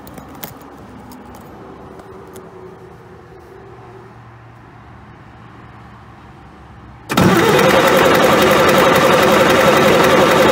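The engine of a John Deere 770 motor grader cranks over loudly and continuously after several seconds of quiet clicks and faint background hum, with a steady starter churn that does not catch.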